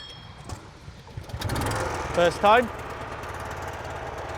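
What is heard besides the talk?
BCS 630 WS flail mower engine starting with pull cord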